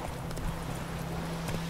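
Roach, Geralt's horse in The Witcher 3, drums its hooves in a steady clip-clop over a continuous low ambient hum, the footfalls close and moderately loud with no voices.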